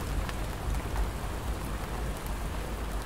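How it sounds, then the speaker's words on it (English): Heavy rain pours steadily onto a tent and surrounding tree leaves at a campsite, a dense, continuous hiss with scattered louder drops, close and unbroken, with no voices. "The rainfall becomes heavier, and the leaves of the trees increasingly give way"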